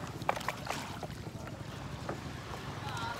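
A boat heading from Tanjung Pasir to Pulau Untung Jawa, its motor giving a steady low drone beneath wind buffeting the microphone, while people chat nearby.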